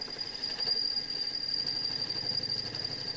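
A metal lathe makes a boring cut at about 700 RPM, with a steady high whine over a continuous grinding, rumbling machine drone that holds evenly throughout.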